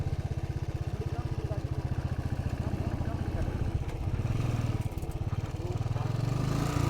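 A 350 motorcycle engine labours up a mountain road in the Himalayas, a loud, close, steady throb that holds on without a break, with a voice heard over it.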